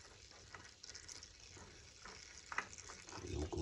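Engine oil drains out of a Honda engine in a steady, wet, splashing trickle, close by and moderately loud, with a few small knocks near the end.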